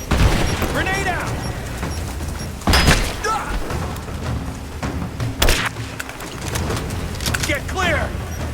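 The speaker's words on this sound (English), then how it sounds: "Grenade out!" A grenade explodes in the Rise of the Tomb Raider video game amid a firefight, with several heavy booms and gunfire bursts over continuous battle noise. Shouting voices are heard throughout.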